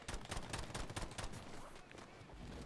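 Gunfire in Call of Duty Warzone, a rapid burst of close shots with sharp repeated cracks over about two seconds, fairly quiet overall and then tailing off.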